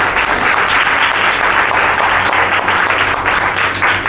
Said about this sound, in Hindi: हम बच्चों के लिए जोर से ताली बजाएंगे।